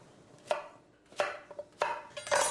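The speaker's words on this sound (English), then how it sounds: "you can cut zucchini whatever way you care to" A kitchen knife chops zucchini on a board in four or five distinct, close strikes, uneven in spacing, each a crisp thunk with no talking.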